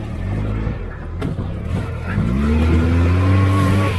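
Homemade 4x4 buggy engine revving hard at full throttle close by, its steady roar climbing in pitch as it accelerates, with a brief dip and a tire-scrub noise before the sustained high-revving drone.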